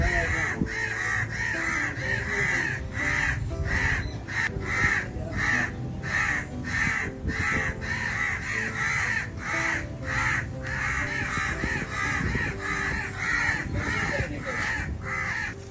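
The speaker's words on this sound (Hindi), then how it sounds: "कोयल के जो बच्चे हैं घोंसले से गिरे, उसके बाद जनाब कौवों ने उसको प्रोटेक्ट किया और ओरिजिनल मदर कोयल को करीब नहीं आने दिया" Crows caw repeatedly and loudly, close by, in a steady run of harsh calls over roughly sixteen seconds, guarding koel chicks that have fallen from the nest, with no voices present.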